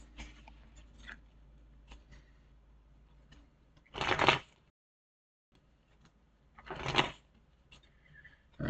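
Tarot cards shuffled in two loud, brisk bursts with quieter card handling and rustles between them, near and without speech.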